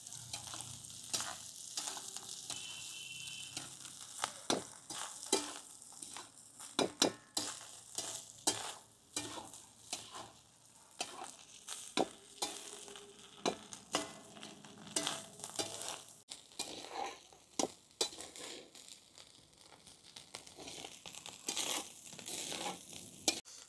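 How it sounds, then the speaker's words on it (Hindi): Basmati rice tossed with salt, turmeric and Kashmiri red chili powder fries in a pan, with repeated scraping and rustling stir strokes in uneven bursts over a softer sizzle, heard close and alone. "मिक्स करून घेऊ व्यवस्थित आपण राईसला।"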